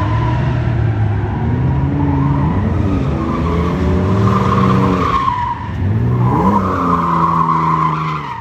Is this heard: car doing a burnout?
yes